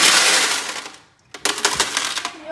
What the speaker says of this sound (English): And then also pour out the rock.